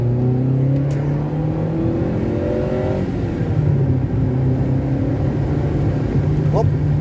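A Mitsubishi Space Star 1.3 16V engine hums and pulls steadily under acceleration, heard from inside the car, with someone talking over the engine throughout.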